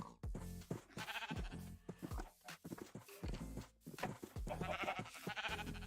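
Sheep bleat repeatedly in Minecraft amid busy game sounds, with clopping footsteps and overlapping animal calls forming a cluttered, continuous mix at low level.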